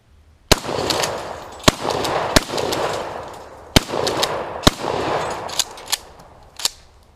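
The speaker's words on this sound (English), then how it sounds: "So we're slowly cleaning the shotgun as we use it for our holiday specials." A shotgun fires at targets outdoors, about seven sharp, loud blasts at irregular intervals, each trailing off in a brief echo, with no talking between shots.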